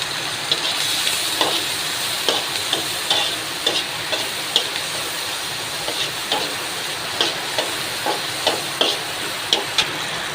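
Dried red chillies fry in hot oil in a pan with a steady close sizzle, punctuated by regular scraping stirs at roughly one-second intervals; no one speaks.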